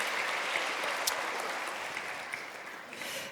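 Congregation applause at a church worship service, a fairly steady wash of clapping from a sizable crowd with no talking over it.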